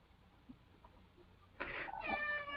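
A cat in pain meows loudly a couple of times, strained and drawn out, breaking in suddenly after a stretch of near silence.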